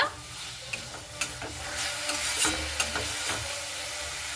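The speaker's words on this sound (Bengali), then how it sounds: "সেই ভাজা আলুটা দিয়ে খুব ভালো মতো করে কষিয়ে নেব" Fried potatoes stirred and scraped into spice paste in a hot pan, soft sizzling under repeated spatula scrapes and light knocks.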